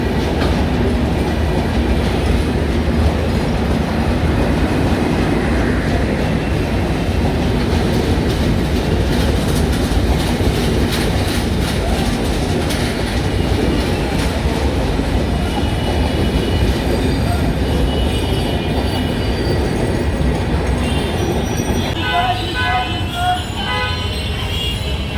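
A large new train runs through the Khilgaon rail crossing beside a busy market, a loud continuous rumble of wagons with clickety-clack wheels and a brief wheel squeal near the end, with faint street bustle behind it.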